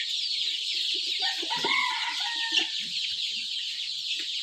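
A dense chorus of hundreds of young chicks on a poultry farm keeps up a constant high peeping, while adult chickens cluck nearby and a few louder calls stand out.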